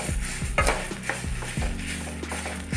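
Dried red chillies, garlic and curry leaves for a Mangalore-style horse gram chutney fry in a pan, a close sizzle under rapid scraping and clinking stirs with ringing metallic tones.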